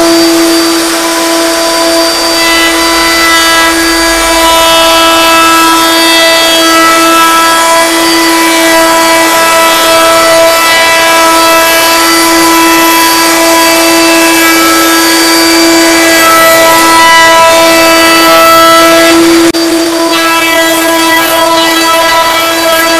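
A router table shapes a length of wood into a dowel, with the workpiece held in place by guide blocks as it feeds through. A loud, steady high-pitched whine runs continuously throughout, with no talking.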